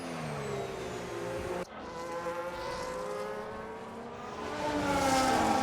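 F1 race cars in the F1 25 video game at the Australia circuit, several engines whining at high revs with pitch sweeps and a sharp cut partway through, then a steady loud multi-car drone building toward the end.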